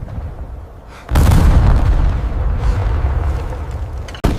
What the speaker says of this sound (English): And now, the first Hellfire launch!